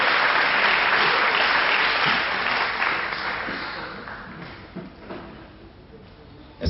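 Audience applause at the 2009 AFJM closing ceremony in Dax, a dense clapping crowd that starts strong and gradually thins and fades, with a few scattered claps near the end.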